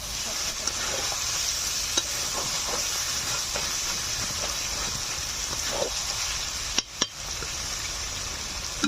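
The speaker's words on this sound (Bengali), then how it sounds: "আরো কিছু সময় ভালো করে মাংস কষে নেব।" Chicken meat sizzles and is stirred in a pan during slow sautéing with lemon leaves, a continuous close hiss with scraping strokes of the spoon and a couple of sharp clatters near the end.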